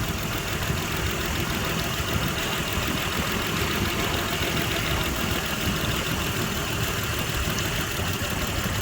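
Mitsubishi Pajero engine idling with a single-cylinder misfire on cylinder 4, a steady close mechanical hum with a faint uneven rhythm running throughout.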